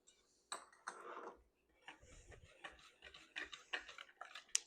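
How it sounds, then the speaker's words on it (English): Dry flour, baking powder, salt and sugar whisked in a bowl for scones, a quiet run of quick light ticking taps of the whisk against the bowl, close and steady, with no talking. "I'm going to give that a whisk."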